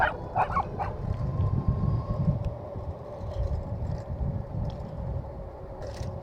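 Small dogs bark a few quick, high yaps early on over the loud, steady rumble of a moving motorcycle ride, then fade behind the engine noise.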